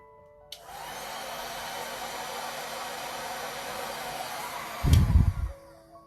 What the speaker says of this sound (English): Alright, one more little heat gun blast.